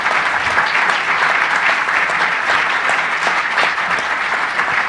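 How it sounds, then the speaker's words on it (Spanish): An audience at a Mexico City conference session claps steadily for the panelists, a dense, even round of applause filling the room for several seconds. "un fuerte abrazo y aplauso a nuestros panelistas"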